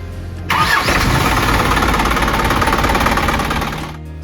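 An overhauled Isuzu 4HG diesel engine cranks and catches, then runs at a steady, loud, clattering idle close by before easing off slightly.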